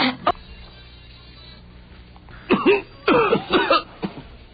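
A sharp cough at the start, then after a quiet pause a cluster of several harsh coughs in close succession, fairly near.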